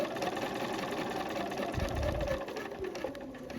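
A sewing machine hums along as it sews the facing of a dress, a low, steady mechanical drone at close range with a few brief knocks partway through.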